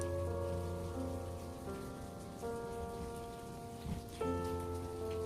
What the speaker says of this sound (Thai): ฝนก็ดันมาตกนะคะพี่น้อง